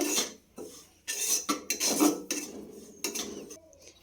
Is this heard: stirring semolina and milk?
yes